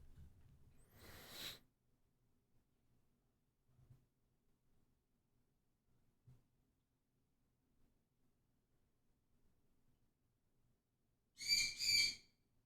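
Birds call outdoors in two short, loud bursts near the start and end of the stretch, with near silence and faint low hum between.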